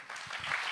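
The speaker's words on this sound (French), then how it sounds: "Nous pouvons les applaudir, effectivement." An audience at a sports federation general assembly applauds, a brief burst of dense clapping at moderate distance, steady and fairly soft.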